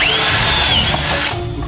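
Power drill boring out old, sand-clogged bolt holes on an old VW bus in Namibia, a loud close whine that rises and holds steady, then shifts pitch near the end.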